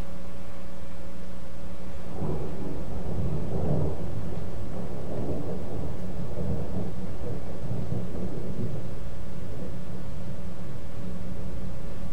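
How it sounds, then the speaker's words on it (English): Thunder from a lightning storm outside rumbles loudly for several seconds after a sharp onset, rolling and fading over steady rain-like hiss, with no one talking. "with all this lightning outside"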